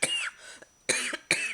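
A person coughs in three harsh bursts: a long first fit, then a pause, then two shorter coughs close together, with no other voice.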